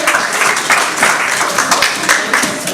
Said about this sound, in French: Nous acclamons pour la parole de Dieu